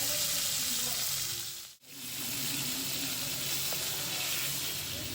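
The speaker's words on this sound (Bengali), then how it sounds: "ভোলা মাছটা ভেজেছি, তবে কড়া কড়া করে ভাজে মোটামুটি।" Salted, turmeric-rubbed bhola fish frying crisp in a pan, a loud, steady close sizzle that cuts out briefly for a moment, then resumes at the same strength.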